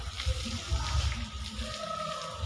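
Water poured over a small amulet statue during a ritual bath, a steady close splashing trickle with soft low gurgles and irregular surges over a few seconds, with no talk.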